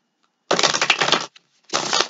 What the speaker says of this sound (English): We're going to shuffle again.